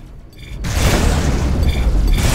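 A missile explosion in the space combat game Rebel Galaxy lands as a loud, deep boom that rumbles on steadily for about two seconds, close and heavy, with no talking over it.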